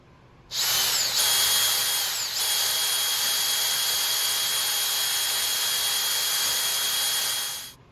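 A DeWalt DCD791 compact cordless drill spins freely in second gear, a loud, steady high-pitched motor whine that starts abruptly, holds for about seven seconds and then winds down, with no voices.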